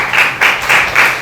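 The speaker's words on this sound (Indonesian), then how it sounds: "tepuk tangan dulu." Classroom applause during a teaching session, several short waves of clapping from a group of students, loud and close, with no talk over it.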